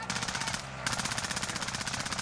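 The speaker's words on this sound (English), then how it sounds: "I'm being shot in the back." Automatic gunfire in the Call of Duty Warzone video game, a rapid stream of evenly spaced shots at moderate distance, broken by a brief pause before the burst resumes.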